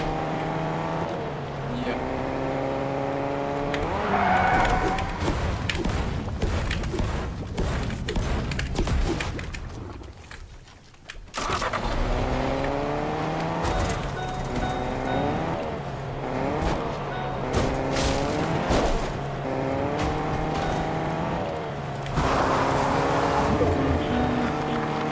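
A truck drives in the Fortnite video game, its engine droning steadily with shifting revs and gear changes, loud and close throughout, briefly dropping away near the middle before resuming.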